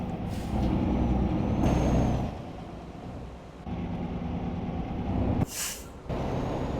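DAF truck in Euro Truck Simulator 2 rumbling along with a steady low engine drone, punctuated by a sharp hiss of air brakes near the end; no talking.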